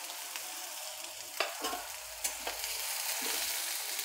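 Onion, green chillies, mustard seeds and cumin frying in hot oil for egg bhurji, a steady close sizzle with a few sharp crackles and pops and a soft stirring scrape.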